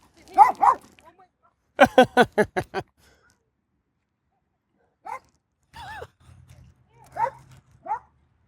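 A dog gives a rapid run of sharp, loud barks and yips, then later makes softer whimpers and short whines, close by, with someone speaking soothingly between the sounds.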